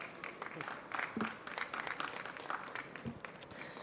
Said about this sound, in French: Vous pouvez l'applaudir et puis on continue.